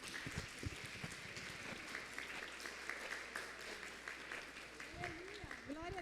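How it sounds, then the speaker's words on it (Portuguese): Women of a church congregation applaud together at an evening service, steady broadband clapping lasting several seconds with voices and a brief sung or spoken tone rising near the end. "convidar as irmãs para nós dar uma salva de palmas para a gente."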